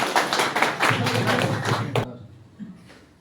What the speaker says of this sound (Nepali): ल ताली दिउँ